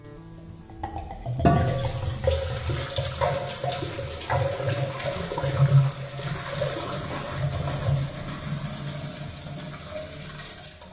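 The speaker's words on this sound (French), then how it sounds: "On ajoute 1 litre de vodka" A litre of vodka pours into a jar for a lemon infusion, a continuous close splashing and gurgling of liquid that lasts several seconds with no talking.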